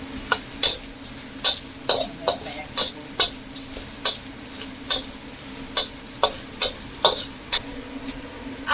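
Fermented black beans (tausi) go into a hot pan with garlic and sizzle steadily, with sharp, regular scraping clicks from stirring about twice a second.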